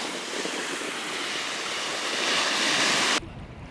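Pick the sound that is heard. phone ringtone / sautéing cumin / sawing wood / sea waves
sea waves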